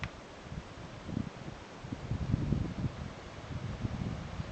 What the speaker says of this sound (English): Oh, it's windy down here.